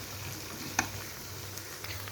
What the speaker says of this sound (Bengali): দিয়ে একটু ভেজে নিব। আদা রসুনের যেন কাঁচা গন্ধটা না থাকে